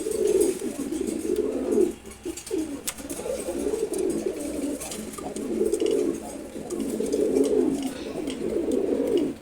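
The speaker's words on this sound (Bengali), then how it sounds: "সে ডাকতেছে তো ডাকতেছেই, খুবই অ্যাক্টিভ নোট।" A racing pigeon coos over and over in steady, rhythmic low throaty phrases, close and clear, with brief pauses between bursts.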